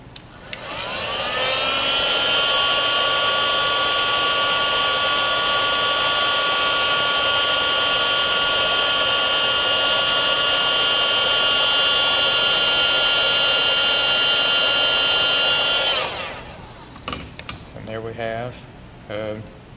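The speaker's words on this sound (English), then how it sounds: "I'm just going to turn it on and blow hot air across this heat shrink tubing." A heat gun blowing hot air across heat shrink tubing on a wire splice makes a loud, steady whooshing roar with a faint fan whine, then cuts off, followed by brief talk.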